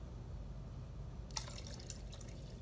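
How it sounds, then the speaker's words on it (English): Distilled white vinegar being poured into a tie-dye mixture of purple and teal drops: a faint, short trickle of liquid with a few small splashes over a low background hum. "And let's add some distilled white vinegar."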